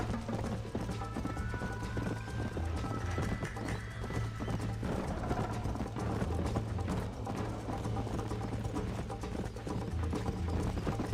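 A horse gallops in Red Dead Redemption, hooves clopping in a fast, steady rhythm throughout, with a whinny and mechanical clicking over a constant layer of game ambience.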